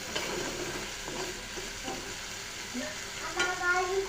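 A spoon stirs leaf fritters of ash gourd leaves frying in a pan over high heat, with a steady close sizzle and scraping strokes, and a few louder scrapes near the end.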